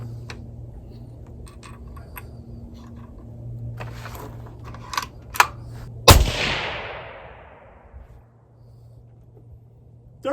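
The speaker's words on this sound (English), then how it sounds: "We'll shoot 3 shots" Tikka T3X Lite 22-250 rifle with a 1-in-8 twist barrel fires 53 grain V-Max handloads outdoors; several sharp cracks and clicks lead up to one loud, close report that rings out and fades over a low steady hum.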